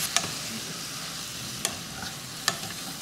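A spoon stirs bitter gourd pieces with tamarind-jaggery pulp and roasted peanut masala in a pan. The mixture gives a soft, low sizzle, with a few sharp clicks of the spoon against the pan and no voice.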